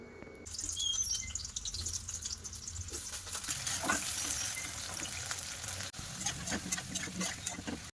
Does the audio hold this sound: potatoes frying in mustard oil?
yes